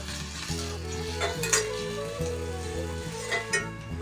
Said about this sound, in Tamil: இப்போ நம்ம மீதி அரைச்சி வச்ச மசாலாவை கொஞ்சம் சேர்த்துக்கலாம்